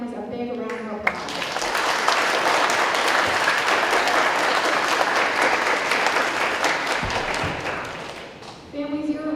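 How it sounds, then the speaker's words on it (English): Audience at a sixth-grade school band concert breaks into loud, sustained applause that fills the room, briefly framed by a voice speaking before and after. "Students, let's give your parents and families a big round of applause."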